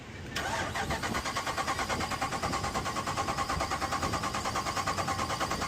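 A car engine cranks repeatedly with a steady, rhythmic churning whir, close and loud, struggling without catching; a General Lee car failing to start.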